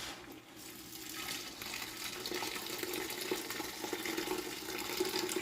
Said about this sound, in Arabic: صافي انا هنايا درت الماء يطيب وغادا نروي